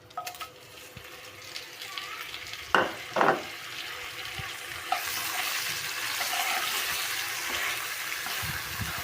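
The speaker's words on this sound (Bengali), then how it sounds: "এই তো তেলটা আমার গরম হয়ে গেছে, এখন আমি মশলা দিয়ে দিচ্ছি" Spice paste hits hot oil in a wok while chicken curry is being cooked, giving a steady close sizzle that swells and persists, with a couple of louder clattering stirs near the start.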